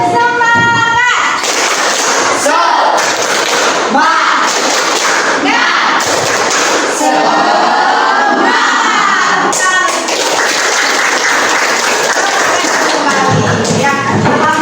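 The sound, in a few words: classroom students doing rhythmic spirit clap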